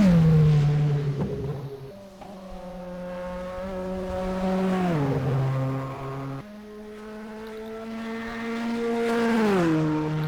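A loud Mazda 787B race car engine in the racing game rFactor 1 roars and revs continuously, its pitch climbing and dropping through gear changes, with no voices over it.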